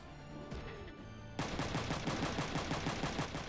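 Rapid, continuous machine gun fire from the Front Mission 3 video game, a loud dense rattle that starts abruptly after a brief quieter lead-in and runs steadily to the end.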